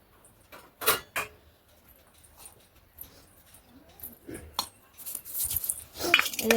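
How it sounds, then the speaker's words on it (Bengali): Rice is served onto plates with utensils, producing scattered clinks and scrapes of spoon against dishware, sparse at first and growing busier and louder toward the end, with no speech. "ভাত বেড়ে দিচ্ছি, এখন মেয়েকেও ভাত দিয়ে দেবো।"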